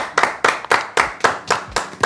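An audience claps at a magic and illusion show, with eight sharp, evenly spaced hand claps in a steady rhythm, close and loud, and no talk over them.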